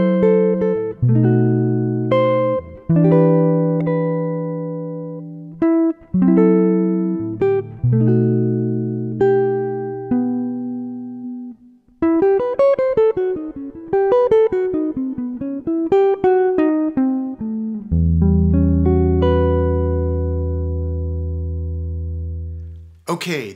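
A clean jazz guitar plays the last eight bars of a tune, a jazzy chord passage with a quicker single-note run in the middle, ending on a low, sustained chord that rings out before stopping.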